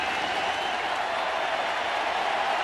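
Crowd at a World Series baseball game in Arlington applauding steadily, a dense broadband roar of clapping and cheering that holds evenly loud throughout without breaks.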